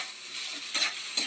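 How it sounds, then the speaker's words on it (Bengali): Chili paste sizzles in hot oil for an aloo paratha filling, a steady close frying hiss lifted by two brief louder bursts as it is stirred. "ভালো করে ভাজতে হবে।"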